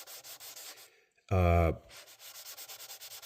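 Frets on a 1965 Kawai Kingston guitar are sanded with 600-grit micro mesh spanning several frets: close, rapid back-and-forth rubbing strokes, broken by a brief pause and a short tonal squeak before the scrubbing resumes.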